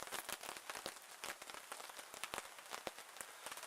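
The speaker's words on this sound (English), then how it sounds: "It's raining quite a bit." Rain falling in a warm, misty Irish forest, close patters and drips striking leaves and surfaces in an irregular, crackling rhythm, soft and steady with no voices.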